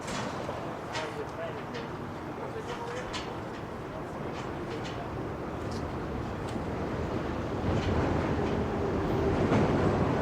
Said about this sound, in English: Now you'll see this train also go out